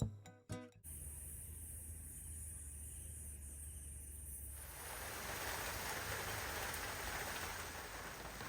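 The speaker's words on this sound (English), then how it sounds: "We woke up to a symphony of gentle rain and nature." Gentle rain falls steadily at a village garden camp near Ponta do Ouro, Mozambique. After a brief rustle at the start, the hiss grows fuller and brighter about halfway through.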